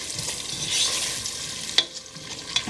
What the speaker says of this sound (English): we're gonna saute this together until the onions are nice and softened